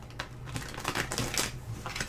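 Quick papery riffles and soft flicks as tarot cards are shuffled close by, in short bursts of a couple of seconds, with no talking.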